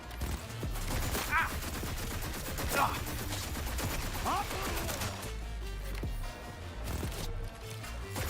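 Gunfire in Cyberpunk 2077, rapid, dense shots rattling almost without a break over loud game action, while someone talks through it.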